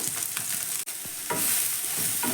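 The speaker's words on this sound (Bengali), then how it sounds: "তেলটা এখানে গরম হয়ে গেছে দিয়ে দিচ্ছি সয়াবিন দিয়ে দিচ্ছি" Soya chunks fry in a couple of spoons of hot oil, a loud steady sizzle with scraping stir strokes, one brief gap in the middle, then the hiss surges louder for the rest.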